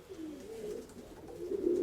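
Domestic racing pigeon cooing in a loft, a low rolling coo repeated through the moment, close and clear with no talk.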